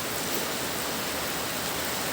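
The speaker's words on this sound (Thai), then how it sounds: "ฝนมาอย่างนี้นะครับ" Steady rain pouring down outdoors in Surin, Thailand, at the start of the rainy season, a dense, even hiss that fills the whole clip with no voices.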